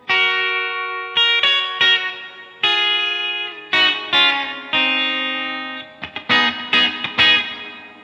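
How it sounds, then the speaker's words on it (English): Electric guitar through a Yamaha THR5 amp with spring and hall reverb, picked chords ringing out with long washy tails, a string of separate strums and stabs, some short and choppy near the end, no voices. "There's some spring reverb and some hall reverb, which sounds really huge"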